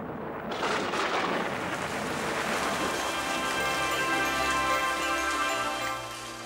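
A thunderstorm brings heavy, constant rain pattering on surfaces, with a low rumble of thunder rolling underneath for several seconds; no voices.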